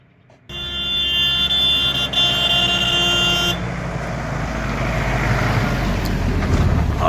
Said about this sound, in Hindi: सामने आ गई गैस की गाड़ी।